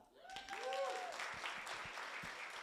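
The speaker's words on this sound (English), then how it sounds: "Can I get a clap?" Audience clapping and cheering at a real estate rally in Sacramento, a broad steady wash of applause with a few whistles and whoops, moderately loud, filling the room for a couple of seconds.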